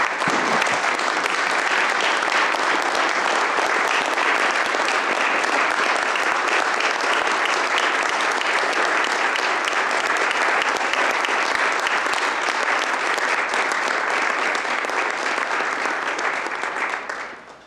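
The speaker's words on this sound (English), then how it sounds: "I would ask for a round of applause." Long, steady round of applause from a standing audience at a Kane County Board meeting, dense and even throughout before tapering off abruptly at the close.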